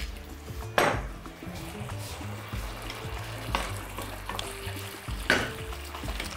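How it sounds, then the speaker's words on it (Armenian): About 50 ml of semi-sweet red wine is poured into a hot pot of lamb and quince stew, bringing a continuous close sizzle broken by two sharp metallic clanks of pan or utensil, with no talk. "Մոտ 50 միլի կարմիր կիսաանապակ գինի ենք ավելացնում"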